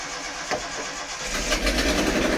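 A car engine cranks and catches, then settles into a steady rumbling idle that grows a little louder, close by.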